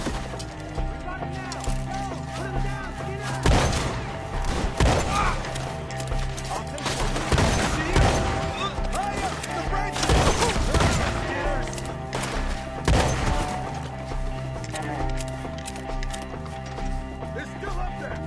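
Gunfire crackles through a Red Dead Redemption 2 shootout against enemies up in a tree, with sharp shots scattered amid horse hooves, music and frequent shouting voices over about eighteen seconds.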